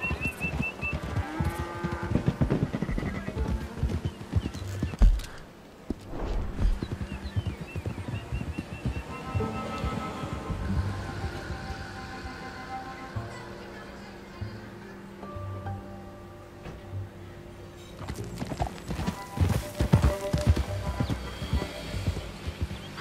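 A horse clip-clops in Red Dead Redemption 2 gameplay, its hoofbeats mixed with game music, ambient effects and speech.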